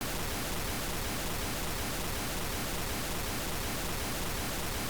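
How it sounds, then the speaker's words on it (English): A steady, loud wash of pink noise hisses continuously and evenly throughout, with no breaks or changes in level. "I've used pink noise to really dial things in"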